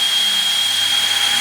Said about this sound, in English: I like to do a pilot hole first just because it makes my life easier than trying to hog it out all at one